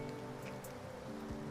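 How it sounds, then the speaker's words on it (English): Rain falls in a video game as a steady, soft patter and hiss, with a low hum running beneath it. "And now it's raining."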